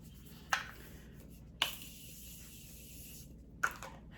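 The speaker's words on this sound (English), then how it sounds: "And lastly, spray some setting powder." Makeup setting spray is misted onto a face in three short, crisp hisses, each a quick burst followed by quiet, close to the listener.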